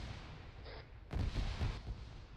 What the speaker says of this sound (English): Eyes on, big explosion south